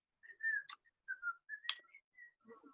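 A chorus line of knights in a Spamalot read-through whistling a bright tune, with clean sustained whistled notes in short phrases, fairly quiet and close, interrupted by brief breathy gaps and a soft low murmur at the end.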